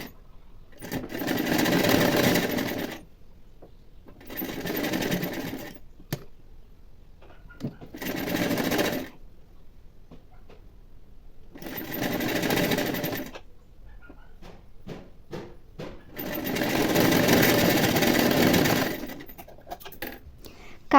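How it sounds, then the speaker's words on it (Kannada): A sewing machine stitching a blouse belt strip runs in five loud bursts of steady whirring stitches, each a few seconds long, separated by quiet pauses. "ಫಸ್ಟು ಒಂದು ಕಾಲು ಇಂಚ್ಗೆ ಸ್ಟಿಚ್ ಹಾಕ್ಕೊಳ್ಳಿ"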